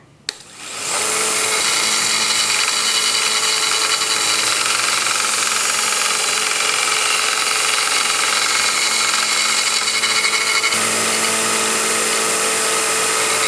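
A 1x30 belt sander whirs steadily at close range while a steel lathe chisel is sharpened on the running belt, the grinding drone constant throughout before dropping slightly near the end.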